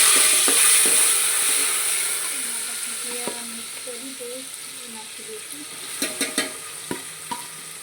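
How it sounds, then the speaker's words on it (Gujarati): Cumin seeds and crushed green chilli hit hot oil for a tempering, giving a bright sizzling hiss that slowly fades. A few sharp spoon clicks land near the end, with a faint voice in the background. "જીરુંમાં વઘાર કરશું રાઈ એમાં નહીં નાખશું અને આ લીલું મરચું ખાંડીલું નાખી દઈશું"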